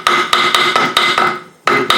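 Light hammer taps strike the end cover of a Land Rover R380 gearbox, whose silicone-sealed joint has no gasket: a quick run of sharp, ringing metallic knocks, close and loud, followed by a brief pause and one more tap.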